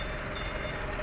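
Steady reversing beeps from a Hino dump truck backing up, heard close and continuous over engine rumble.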